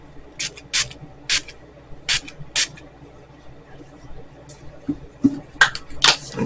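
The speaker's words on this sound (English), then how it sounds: "Let me spray this with my Milani Make It Last spray" Milani Make It Last setting spray fires in five short, sharp hissing bursts at close range, followed by a few faint clicks and taps in an otherwise quiet room.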